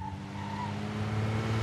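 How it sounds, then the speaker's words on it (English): Unrestored 1967 Ferrari 275 GTB-4 squealing its tires at low speed, with a thin sustained squeal over a steady engine drone, moderately distant and without talk. "Nice old cars squealing away without any high speed."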